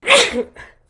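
A single sharp human sneeze, loud and close, bursting out and trailing off into a faint breath, during an indoor Torah study session.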